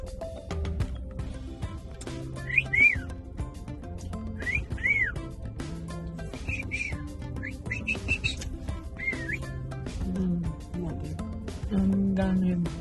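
A person whistles several short, bright, rising-and-falling notes in scattered bursts over a busy, cluttered background with low tonal sounds, moderately close.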